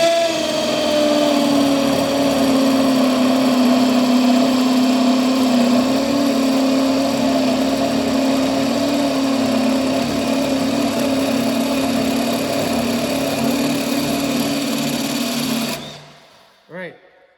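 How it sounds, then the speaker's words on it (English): A Milwaukee M12 cordless hammer drill with a 1.5-inch spade bit runs continuously at a steady high whine for about sixteen seconds while boring holes, then cuts out abruptly, followed by a brief clunk. "So we'll drill a couple holes."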